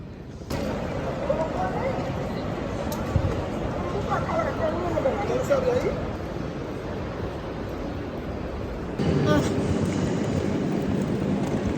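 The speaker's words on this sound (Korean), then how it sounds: "여기가 찬트랄레 기차역인가 봐요." Milano Centrale railway station in Italy: a busy hall ambience of steady crowd murmur and low rumble, with a louder surge of noise near the end and no clear talk up front.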